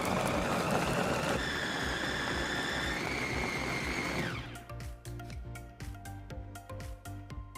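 An electric blender grinds onion, red chili, garlic, ginger, rice, fish sauce and salted shrimp into a paste, first as a loud steady whir with shifting pitch, then slowing to a rougher, pulsing churn.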